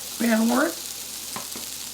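Potato sizzles in bacon fat in a pan with a steady close frying hiss, broken by a short, voiced sound near the start and a couple of faint clinks.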